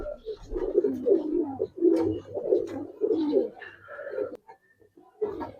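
Giribaz pigeons cooing close by in repeated throaty bursts, several rolling coos in a row, then a pause and another coo; a voice talks over part of the cooing.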